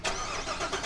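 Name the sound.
Corvette engine starting up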